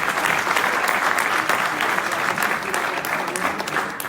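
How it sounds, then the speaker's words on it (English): An audience at an evening tech meetup claps steadily, a full, even round of applause from a seated crowd that holds at the same level for a few seconds. "Applause"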